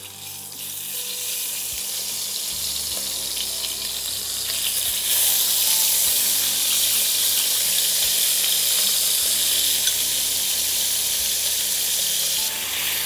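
Potatoes still wet with water sizzle loudly in hot oil with a five-spice tempering for a Bengali katla fish curry, a dense, steady frying hiss that swells slightly and carries on throughout with no voices.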